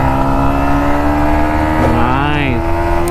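A Yamaha MT15 motorcycle engine revs loudly and close, a steady high droning roar that climbs in pitch in a quick rising sweep, with a voice briefly heard beneath.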